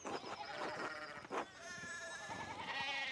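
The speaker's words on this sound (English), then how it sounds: "we need to get these sheep under control" Sheep in the medieval-set game Pentiment bleat in several overlapping wavering calls, fairly loud and close, over a steady farmyard background with no talking.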